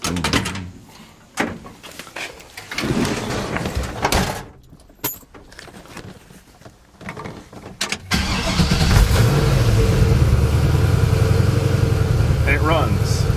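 Clattering handling noises and thumps, then a Chevrolet Caprice PPV engine cranks and catches, settling into a loud steady run with a revving swell.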